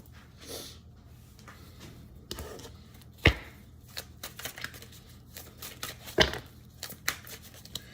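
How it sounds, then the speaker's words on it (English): Tarot cards being shuffled and handled in a quiet room, with soft irregular riffling and rustling and a couple of sharper snaps standing out against a low background hum. "let me pull some cards for you"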